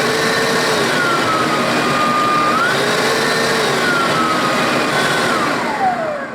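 EGO 56V 9-gallon cordless wet/dry vacuum running on turbo, a loud steady motor whine with shifting pitch tones throughout, sustained and close with no talk.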